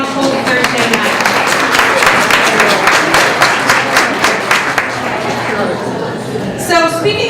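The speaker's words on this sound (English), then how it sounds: "applause to all of you for coming on a cold Thursday night" Audience applause at a women's wine and chocolate gathering, loud, with distinct individual claps standing out in a rhythmic pattern before fading, and a voice entering near the end.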